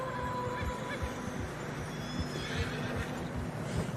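Horse in Red Dead Redemption 2 trudging through fresh snow on a narrow mountain path, steady hoof thuds with a neigh over constant wind and ambient game noise.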